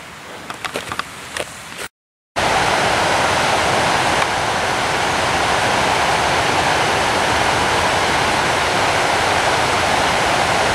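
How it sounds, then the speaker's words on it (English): Fast-moving mountain stream heard from high on a ridge above Colorado Springs, a steady, broad rushing roar after a few brief knocks and a short dropout, continuous and fairly loud with no talk. "that water is really moving."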